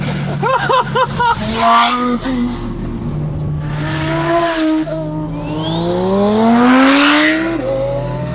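A fast exotic car accelerates hard, its engine note rising in pitch as it pulls away, loud and close, with people talking and exclaiming over it.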